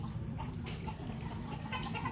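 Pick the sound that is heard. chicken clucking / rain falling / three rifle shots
chicken clucking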